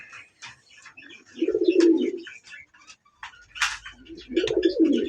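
Domestic and foreign breed pigeons coo at a pigeon farm, two deep throaty bursts of cooing close by, with scattered chirps and rustling between them.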